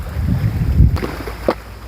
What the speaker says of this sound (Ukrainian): Та й волна, і вітер піднявся